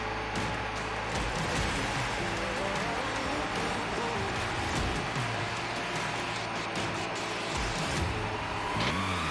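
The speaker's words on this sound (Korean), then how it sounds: "시동 걸었습니다." A Peugeot 207CC with the 1.6 engine runs steadily after starting. A constant engine hum and drone sits close and continuous under faint background noise, and there is no clear speech.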